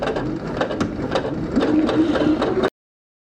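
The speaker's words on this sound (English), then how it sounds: "So I'm going to keep sewing." Domestic sewing machine stitching around the edge of a scrappy strip-pieced pillow, a steady close mechanical whir with rapid needle clatter running nearly three seconds, then stopping abruptly.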